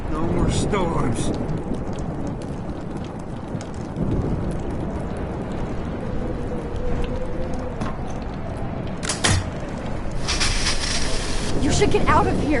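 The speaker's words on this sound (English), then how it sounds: "No more storms." Steady rain and wind roar through a thunderstorm in the video game Life is Strange, with low thunder rumbles and sharper cracking bursts near the end.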